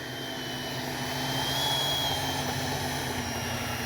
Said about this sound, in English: Take her off one more time, try to get us a nice flyby.